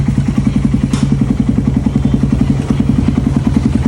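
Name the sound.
motorcycle engine running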